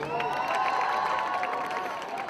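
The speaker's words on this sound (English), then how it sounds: "Applause for everyone here." Crowd applause and cheering for dancers at a university international dance performance, a steady dense wash of clapping with some shouts, fairly close and continuous throughout.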